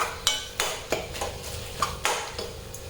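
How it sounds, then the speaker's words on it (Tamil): Utensil stirring turmeric and salt into an egg mixture frying in a pan, producing a few scraping, clinking strokes over a soft, steady sizzle. "போட்டு நல்லா கிளறி விடணும்."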